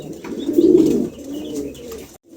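A pair of Lahori pigeons, a yellow hen and a red cock, coo in a low, throaty burble lasting about two seconds, loudest at the start, close and alone before a sudden cutoff.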